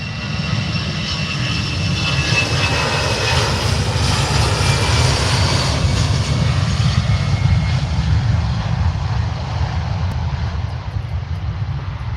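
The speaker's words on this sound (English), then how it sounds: "So we've got that EasyJet there," An EasyJet airliner taking off at Manchester Airport, a loud, sustained jet roar holding steady throughout with a rumbling low end and no talk.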